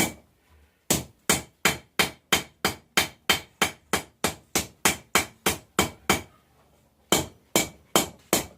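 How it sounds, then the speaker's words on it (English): A hammer forges the bevels of a farrier rasp knife, striking hot steel in a steady run of about twenty sharp, ringing blows. The blows pause briefly before the pounding resumes, loud and close. "now that I've got that curved down, I'm going to hammer out the bevels"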